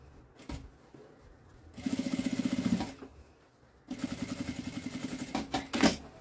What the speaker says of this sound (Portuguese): passar uma costurinha aqui de meio pé de máquina